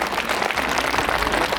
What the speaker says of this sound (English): can you clap for our students?